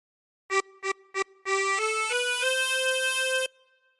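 A tremolo harmonica plays a short phrase of Hey Diddle Diddle: three quick separate notes, then a held, sustained run of steady reedy tones stepping gradually upward before stopping, heard alone and close.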